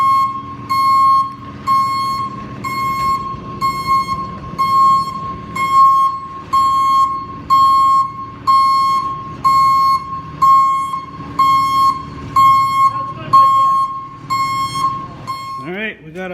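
Reversing beeper on a tow truck sounds in a steady series of loud, evenly spaced beeps, about one per second, over low engine rumble, with a brief different noise at the very end.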